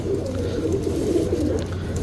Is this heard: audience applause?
no